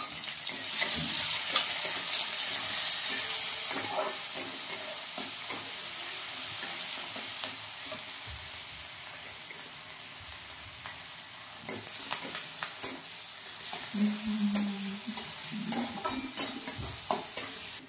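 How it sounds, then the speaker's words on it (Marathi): Chopped onion frying in oil in an iron kadhai with cumin seeds, a loud bright sizzle that settles to a steady hiss, with occasional stirring scrapes and clinks near the end. "आता यात आपण चिरून घेतलेला कांदा देखील चांगलेपणे भाजण्यासाठी टाकायचा आहे"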